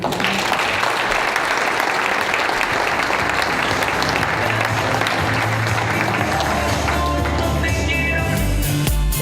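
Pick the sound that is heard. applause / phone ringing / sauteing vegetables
applause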